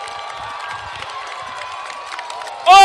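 High school football crowd roaring after the Bobcats win on a late fumble, a sustained distant wash of cheering and shouts, then a loud whistle-like burst near the end.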